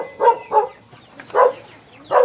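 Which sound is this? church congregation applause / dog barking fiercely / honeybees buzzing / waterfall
dog barking fiercely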